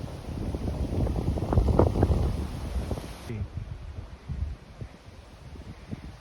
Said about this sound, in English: you can see the wind's picking up